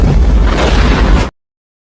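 A film's nuclear bomb detonation, a loud, dense, booming roar with heavy low rumble that fills the sound for over a second before cutting off abruptly into silence.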